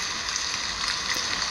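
Steady, dense hiss of a phone's rain sound effect, even and continuous with no voices, like a close wash of drops on a surface.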